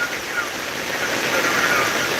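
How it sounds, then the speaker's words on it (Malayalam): Heavy rain pours steadily in a broadband wash, loud and continuous throughout with no clear gaps or distinct drops. "ശക്തമായ മഴയുള്ളതുകൊണ്ട് മിക്കവാറും സൗണ്ട് അത്ര ക്ലിയർ ആവാൻ സാധ്യതയില്ലാത്ത"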